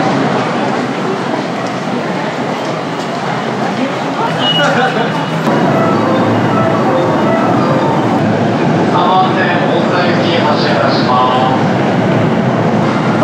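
Train ride at a station in Yokohama, Japan, with a steady rumble of the rail car and rolling wheels, brief squeals and announcement-like tones, and a voice speaking over the noise.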